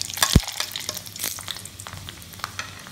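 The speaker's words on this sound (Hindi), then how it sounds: "तेज पत्ता डालूंगी, दालचीनी डालूंगी और मेथी डालूंगी तड़के में।" Bay leaf, cinnamon and fenugreek sizzle in hot oil for a tempering, a steady close crackle with a sharp clink of a spoon near the start and scraping stirs throughout.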